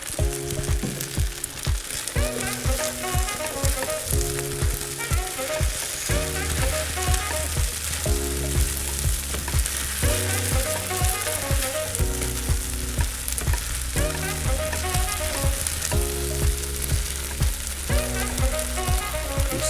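Noodles sizzle loudly in a hot pan with tonkatsu sauce, steady frying hiss under constant stirring and scraping. Background music plays throughout.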